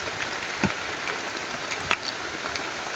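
Heavy rain pours in a dense, steady hiss that fills the whole clip, with two brief louder knocks or splashes standing out near the start and middle.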